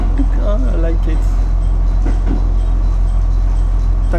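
A Sea Side Liner train runs on the rails at sunset, heard from inside as a loud, steady low rumble with faint wheel clatter, while someone talks over it.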